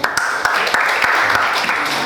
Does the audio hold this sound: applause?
yes